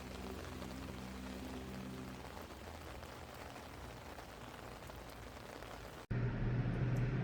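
Rain falls steadily on an outdoor surface near an electric vehicle being charged, producing a dense, even hiss mixed with a low hum that becomes louder in the final second.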